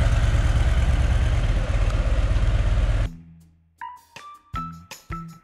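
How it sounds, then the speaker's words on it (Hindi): A Harley-Davidson Fatboy motorcycle on a test ride, fitted with an oversized rear tyre, gives a loud rumbling engine drone for about three seconds, then cuts off, followed by a few scattered clinks and knocks. "Fortunately, आसिफ ने test ride Lee and the tires passed with flying rubber"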